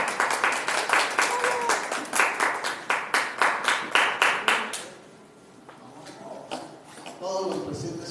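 Audience at a talk on religious architecture in Ecatepec claps in a lively burst for about five seconds, crisp individual claps standing out, before fading as a voice begins speaking.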